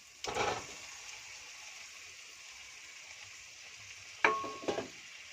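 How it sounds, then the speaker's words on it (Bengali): Fried eggs and potatoes go into sizzling masala for a Bengali-style egg and potato curry, with two short scraping stir bursts over a faint, steady hiss. "এবার ভেজে রাখা ডিম আর আলুটা দিয়ে দেব"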